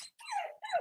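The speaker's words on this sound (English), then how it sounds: "puppy trying to get outside" A puppy whimpering while trying to get outside gives two short, high, falling whines separated by a brief pause, fairly faint and close.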